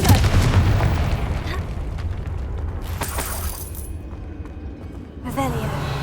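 A fiery blast from the Confringo spell in the video game Hogwarts Legacy, a loud booming explosion with crackling debris that decays over several seconds before a second burst of impact noise near the end.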